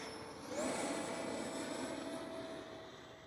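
An X-Fly Swift 2100 64mm EDF RC jet flies under power, its ducted fan giving a steady high-pitched whine that rises in pitch as throttle increases, then holds a continuous rushing drone at moderate distance.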